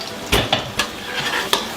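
Chicken croquettes frying in hot oil while being stirred, a steady sizzle broken by a few sharp clinks and scrapes of a utensil against the pan.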